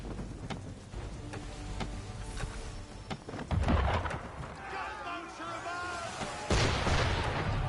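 Cannon fire aimed at a sailing ship in Assassin's Creed III Remastered: several heavy booms with rumbling tails amid wind and sea ambience, followed by tonal ringing sounds, fairly distant and moderate in loudness.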